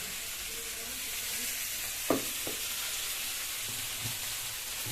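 Cumin, ginger, green chilli and black pepper frying in a pan for a prawn malai curry give off a steady, faint sizzling hiss, with a few soft taps of stirring.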